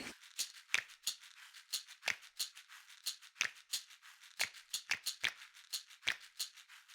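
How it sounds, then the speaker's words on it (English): Scissors snip through paper to cut out a cone form, a quick irregular series of crisp close cuts and rustles with no talking. "now I'm going to cut out my form here."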